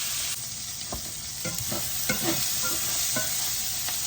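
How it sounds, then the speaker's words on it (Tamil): Fenugreek, onion, mustard seeds and fennel frying together in a pan, a constant hissing sizzle broken by several spatula scrapes and stirring knocks, close and clear, no one talking. "இப்போ வெந்தயம், வெங்காயம், கடுகு, பெரிய சீரகம், வதங்கட்டும்."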